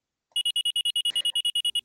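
A selectable alarm tone in a Nancy Drew mystery game: rapid, evenly spaced electronic beeps, loud and close, running in a fast continuous series after a short silence.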